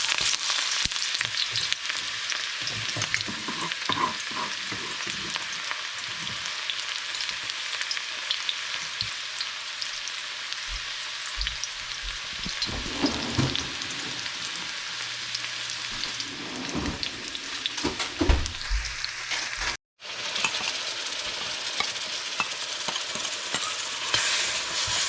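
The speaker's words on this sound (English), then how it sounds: "In goes the onion." Chopped onion frying in a pan for gilbaka curry, a steady rain-like sizzle close up throughout, with stirring scrapes and soft knocks of a utensil, and a brief dropout near the end before the hiss resumes.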